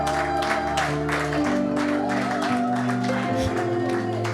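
A church congregation applauds, steady sustained clapping blended with crowd voices and held musical tones throughout.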